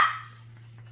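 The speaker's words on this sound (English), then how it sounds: "Oh, Bronte, stop barking at me." A single short, sharp bark from a small dog rings out up close, then fades into near quiet with a faint steady hum.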